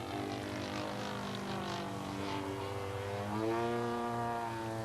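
A model airplane engine drones steadily during an aerobatic manoeuvre, its pitch easing down as the throttle comes back and then rising again as power returns, heard at moderate distance with no talk.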